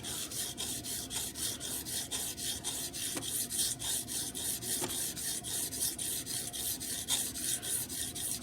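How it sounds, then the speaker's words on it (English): A knife blade with a dull edge is stroked across a flat sharpening stone in quick, even repeated rasping passes, close and steady throughout with no talking. "This is flat to the stone. I'm going to just go up a little because this edge is pretty much dead. And I'm going to just start sharpening."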